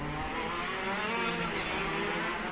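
KZ racing karts on formation laps, a continuous dense engine buzz at steady loud level with no distinct passes or voices.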